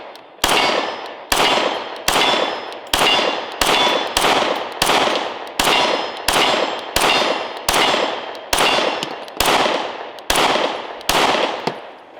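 A Kiger 9mm pistol fires rounds from 17-round magazines at a range, sharp loud reports cracking out one after another at a steady, roughly evenly spaced pace, each with a short ringing tail, no voices.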